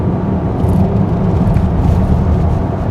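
Steady, loud cabin rumble and road roar from a Volkswagen Atlas six-seater accelerating on the highway, a dense low drone holding constant for a few seconds.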